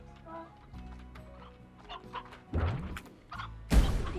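Chickens clucking in the video game Slime Rancher: a few short clucks and soft thuds over quiet game ambience, with two louder bursts near the end.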